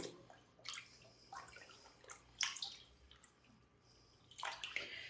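Wet fabric is squeezed by hand to press out the excess water, giving a few quiet bursts of splashing and dripping water, close and faint, with no talking.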